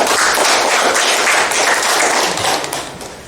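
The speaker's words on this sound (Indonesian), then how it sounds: "Mari kita berikan tepuk tangan." A geography class applauds a student, dense continuous clapping filling the room, loud and close, fading slightly toward the end.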